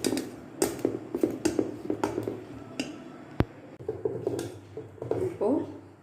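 Adai dosa batter is stirred by hand with chopped large onion, coriander and curry leaves, making soft wet squelches and light clinks of a utensil against the bowl, with a sharp tap midway.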